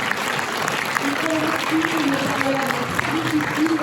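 An audience applauds at the opening ceremony of a film festival in Salon-de-Provence, with steady clapping running throughout and a person speaking over it.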